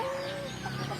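A fighting rooster kept for cockfighting in rural Samar clucks in a short, soft burst against a quiet outdoor background, with no talking.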